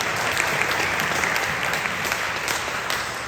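Audience at a commemorative gathering for President Syngman Rhee's 150th anniversary breaking into loud, sustained clapping, a thick, even roar of hands with no pause.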